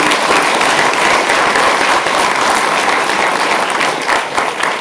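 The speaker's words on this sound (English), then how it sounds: "give a big round of applause for him" Loud, dense audience applause at an international conference on artificial intelligence and machine learning, sustained clapping from a large crowd that carries on without a break.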